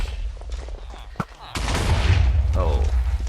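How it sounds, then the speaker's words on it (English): A fire charge launched in Minecraft, a sudden loud whoosh and burst that swells into a sustained roaring, crackling blast after a few quieter thuds and a sharp click. "Fire charge."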